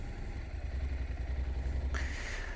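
A Honda NC750X DCT motorcycle rolls along slowly, its low engine rumble steady and close with no talking; a brighter whoosh of wind or road noise rises near the end.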